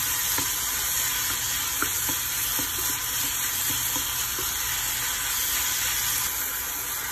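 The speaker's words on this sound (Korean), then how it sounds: "당근 충분히 좀 볶아주다가 소고기 넣고 같이 볶을게요" Carrots and beef stir-fry in a pan with a steady bright sizzle and a few soft scraping stirs, close and continuous, without voices.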